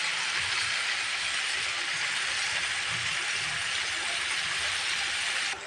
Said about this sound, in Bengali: এখন আমি শাকটা দিয়ে দেবো এই যে শাকটা দিয়ে দিচ্ছি দেখো তোমরা